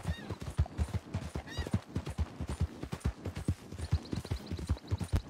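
Horse hooves clip-clop steadily in the Red Dead Redemption video game, a rapid, fairly close rhythm of light impacts layered with game sounds and occasional whinny-like noises, with faint voices in the background.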